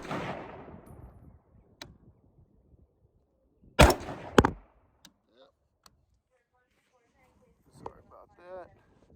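An AR-10 rifle with a DPMS-style bolt carrier group fires two loud, sharp shots in quick succession, with quieter voices before and after.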